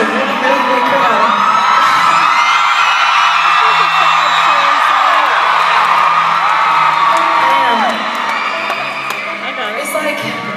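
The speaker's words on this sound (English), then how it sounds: "This is a really, really big crowd." A huge concert crowd at a show cheers and whoops loudly and continuously, a dense roar of voices with shrill shouts rising above it, easing slightly near the end.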